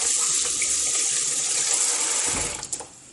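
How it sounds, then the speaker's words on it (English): Water pours steadily from a kitchen tap as a hand is rinsed, a bright, even hiss of running water that cuts off near the end with a few small splashes and drips. No one speaks. "Rinse off the hand."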